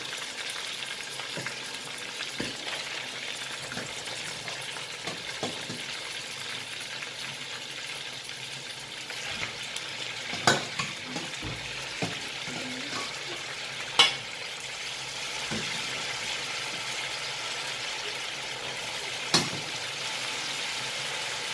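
Pieces of previously boiled beef sizzle again in hot oil, a steady close frying hiss with occasional sharp pops and scrapes of stirring throughout.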